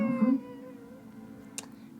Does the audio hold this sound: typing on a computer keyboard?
no